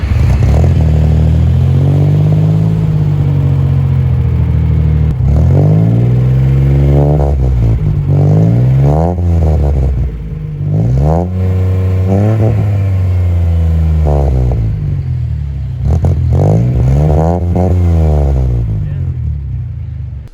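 A 1994 Suzuki Khyber with a modified exhaust revs repeatedly, its rising and falling engine note loud and close, with people talking over it.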